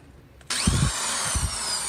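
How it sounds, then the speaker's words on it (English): A power drill abruptly starts boring into a lock, a sharp high whine with a couple of low grinding bursts as the bit bites, close and loud. "You do drill for it."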